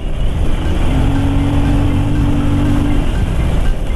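A GY6 125 scooter engine running steadily, a loud close buzzing drone with a faint rising whine partway through, alone without voices.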